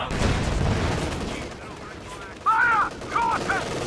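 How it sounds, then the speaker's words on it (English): Heavy machine gun fire rattles through a Company of Heroes 2 battle, a dense burst of shots filling the first second and a half, then fading as a voice calls out over the battlefield. "Incoming HMG fire!"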